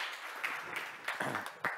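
A conference audience claps after a presentation, a thin, fairly steady patter of hands with a few sharper individual claps, no talking heard.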